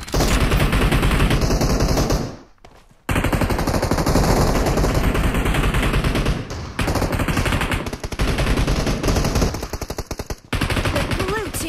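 Automatic gunfire in the video game PUBG rattles in loud, dense, sustained bursts, broken by a couple of short pauses and single shots, with game effects sounding in the background.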